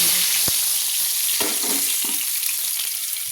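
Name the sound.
catla fish head frying in oil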